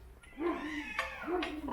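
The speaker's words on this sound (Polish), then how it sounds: "Mam tu koty" A cat meows twice, fairly close and clear, in a workshop where an Ursus C-328 tractor gearbox is being taken apart; a faint voice and background noise sit underneath.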